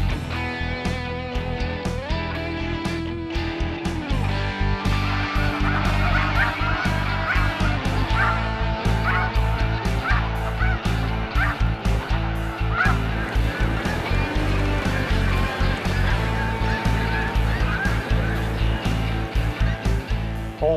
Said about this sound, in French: L'oie blanche, c'est la seule espèce d'oiseau migrateur qu'on peut chasser au printemps.